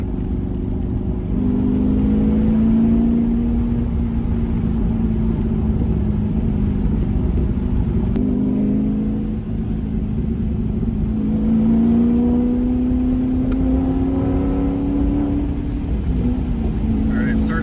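A Porsche 928 engine drones steadily from inside the car through a Baun Performance exhaust, its pitch rising and falling gently as it accelerates and eases off, with a constant exhaust rumble.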